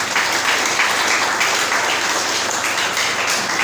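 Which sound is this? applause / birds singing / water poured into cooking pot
applause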